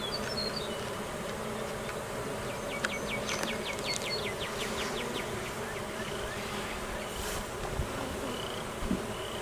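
Honey bees drone steadily around an open beehive during a hive inspection, a dense continuous buzz close by with brief higher whines from individual bees passing near.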